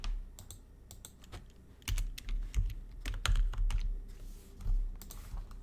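Keys clack on a computer keyboard as a command is typed into Rhino 3D modeling software, a quiet run of quick, irregular taps and short bursts close by with no voices.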